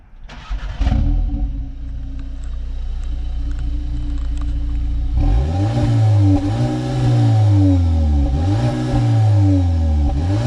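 A VW Polo GTI starts and idles briefly, then its engine revs repeatedly up to a soft limiter around 4,000 RPM, rising and falling in close, loud bursts with no talk.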